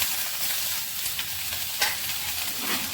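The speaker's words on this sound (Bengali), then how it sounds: "আদাটা একটু ভেজে নেব।" Grated ginger frying in hot oil with spices, a loud, dense, continuous sizzle and hiss filling the whole moment, with faint stirring scrapes.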